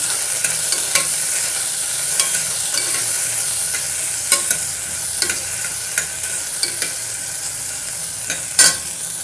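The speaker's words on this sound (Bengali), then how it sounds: "এর মধ্যে দিয়ে দিচ্ছি টমেটোটা দিয়ে হালকা নাড়াচাড়া করে নেবো" Tomatoes frying in a pan, under a steady bright sizzle with light periodic clicks and scrapes of a spatula stirring, one louder knock near the end.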